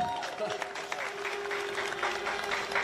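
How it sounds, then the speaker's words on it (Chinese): Baseball fans at a ballpark ceremony applaud coach Hong I-chung's 1000th career win, a broad steady clapping wash with a held tone and a voice speaking over it. "掌声送给洪一中总教练"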